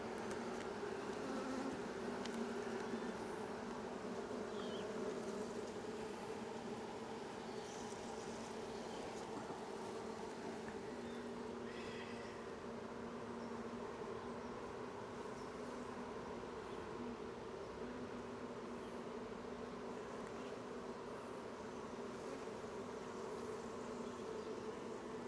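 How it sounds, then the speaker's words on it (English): A queenless honey bee colony roars with a loud, dense, continuous buzzing hum, steady and close throughout with no voices. "They're quite loud, I guess, like roaring, I guess you could say, which is often a sign they do not have a queen"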